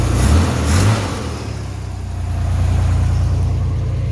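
A Corvair car engine runs close by at a raised idle that doesn't settle down, a steady low rumble with a couple of slight swells in the opening second.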